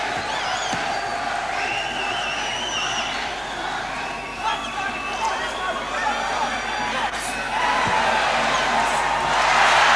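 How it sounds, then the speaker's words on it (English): Muay Thai fight crowd roaring and whooping in a continuous dense wash of cheering, loud throughout and swelling near the end, with voices and shouts mixed into the din. "Listen to this crowd. They're going berserk for Tony And Hill."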